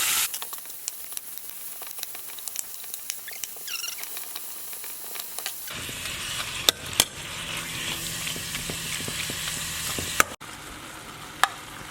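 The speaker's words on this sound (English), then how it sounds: "so go ahead and add in your meat" Meat hits a pan of browned garlic with a steady, hissing sizzle that stays loud and close, dotted with occasional pops and the clack of a utensil, then the frying shifts to a rougher, fuller crackle.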